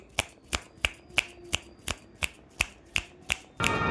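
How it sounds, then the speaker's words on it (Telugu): A run of eleven crisp finger snaps at an even, steady rhythm, each sharp and close, followed by a brief burst of broadband noise at the end; no talking. "చిటికలు"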